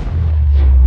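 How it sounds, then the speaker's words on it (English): A deep, sustained rumbling explosion in the Subnautica video game, loud and continuous for just under a second with heavy low-end boom and no voices. "Explosions have happened."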